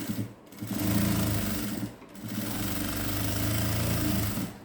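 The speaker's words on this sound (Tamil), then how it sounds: "இன்னொரு தையல் போட்டுக்கிறேன்" A sewing machine stitches a patiala pant seam, running in two close, loud whirring bursts separated by a brief pause.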